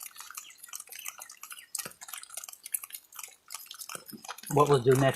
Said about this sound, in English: let's throw that brush in the water